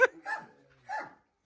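A dog named Escobar gives two sharp barks, close and loud, spaced about half a second apart, with a brief yip at the start.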